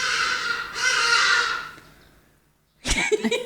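Crows caw in loud, harsh, drawn-out calls that fill the first two seconds, then fade to near silence before a sharp burst of noise.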